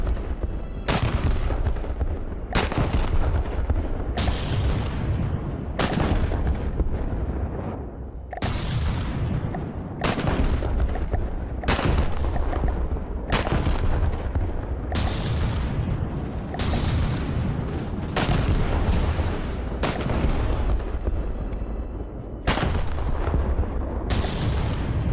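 A heavy weapon in the vehicle combat game Wreckfest fires loud booming shots in a steady rhythm, about one every second and a half, each blast ringing out over a continuous roar.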